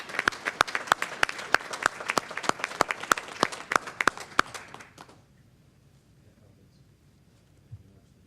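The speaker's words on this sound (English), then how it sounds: "Let's give them another round of applause." A board of education meeting audience applauding first-year cadets of a color guard, a dense burst of clapping for about five seconds that stops abruptly, followed by a quiet room.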